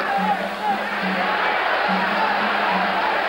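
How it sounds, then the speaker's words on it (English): A boxing crowd roars and cheers a fighter named Escalera during a sixth-round exchange, a dense continuous wall of voices with a commentator talking over it. "The crowd exhorting Escalera on."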